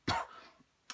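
A single person gives a short, sharp cough up close, followed by a faint throat-clearing catch a moment later, in an otherwise quiet room.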